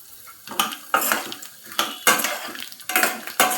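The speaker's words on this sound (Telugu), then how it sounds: "పల్లీలను ఫ్రై చేస్తున్నా." Peanuts fried in a pan for peanut chutney, stirred with a metal utensil that scrapes and clinks against the pan in a quick, irregular rhythm over a faint sizzle.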